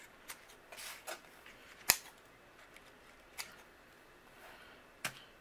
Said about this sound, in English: I'm going to trim. I'm going to give my Easter grass a haircut.